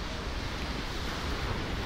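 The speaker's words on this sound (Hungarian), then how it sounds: "Vannak hullámok is." Sea waves wash onto a wide sandy beach on the Greek coast, a steady broadband surf roar mixed with gusting wind across the microphone, with no voices.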